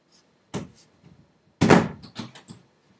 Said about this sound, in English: let me lock my door real quick